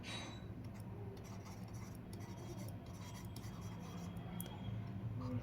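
Pen writing on paper during a maths lesson, a soft continuous scratching close by with faint ticks, under a steady background hum.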